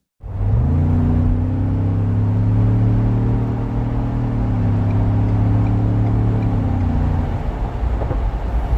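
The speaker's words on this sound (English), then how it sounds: "I can definitely hear some slight noise from those 35-inch tires" Inside a Ford Bronco 2.7L V6 Wildtrak riding on 35-inch tires, a steady road roar and tire hum drone at cruising speed, with a low engine rumble underneath and no talking.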